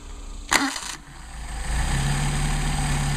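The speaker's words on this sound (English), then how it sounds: "and we'll check our hot start." A 1962 Mercedes 190SL with Solex carburetors starts hot with a brief cranking burst, then settles into a steady, fairly loud idle that holds a rough, even rumble.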